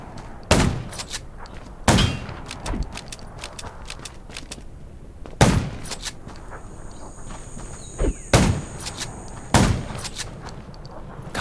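Gunfire in the zombie video game Undawn: sharp single shots ring out irregularly, about six or seven loud reports spread across the stretch, with quieter clatter and movement between them.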